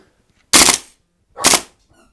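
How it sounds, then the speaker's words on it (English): An AGM M4 gas blowback airsoft rifle fires two sharp, loud single shots about a second apart on semi-automatic, each a short cracking pop followed by a brief mechanical clatter, with near silence between. "We'll fire a couple rounds. And then we'll go to full auto."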